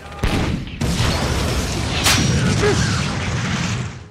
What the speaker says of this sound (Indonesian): ndleman terpaksa terpisah dengan kawanannya, memaksanya berlarian menghindari rentetan tembakan senapan mesin Jerman.